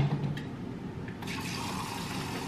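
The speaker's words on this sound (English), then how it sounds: "I'm just going to pour a little bit of that in the frother." Oatly oat milk poured into a milk frother makes a soft, steady liquid fill that runs continuously for a couple of seconds, quiet and close.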